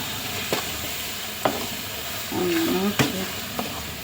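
Raw mango pickle with salt and a little turmeric is stir-fried in a pan: a soft sizzle runs underneath while a spatula scrapes and knocks against the pan several times at irregular intervals, close by.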